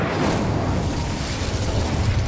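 Incendio fire spell cast in Hogwarts Legacy on Xbox Series X, a dense, loud whooshing burst of flame with a rumbling low end that fills the whole moment without pause.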